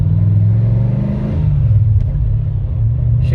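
Mercedes-Benz 560 SL AMG with a 480 hp M113K engine and manual gearbox pulls hard in first gear, a loud, close engine rumble building steadily with a brief voice near the end.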